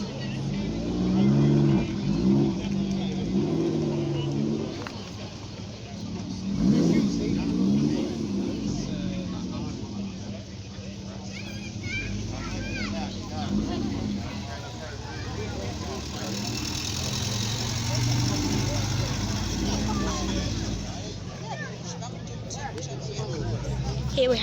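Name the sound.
Chevrolet Corvette car engine at a car meet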